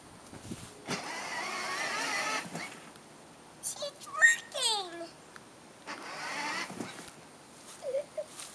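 A Grave Digger Power Wheels ride-on toy truck with a nearly dead battery whirs in short electric motor bursts, fairly close, with pauses between runs while a child and an adult talk over it.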